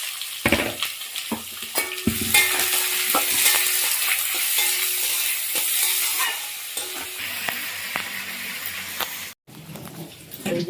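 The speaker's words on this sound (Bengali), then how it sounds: "লাল লাল করে বেরেস্তাটাও ভেজে নিচ্ছি। তেল গরম হয়ে গেছে।" Sliced onions frying in hot oil for crispy birista, a steady sizzle with stirring and scraping noises running throughout, close and fairly loud, with no talking.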